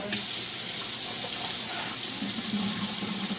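Water runs steadily from a tap, a continuous splashing hiss that holds the same level throughout with no voices.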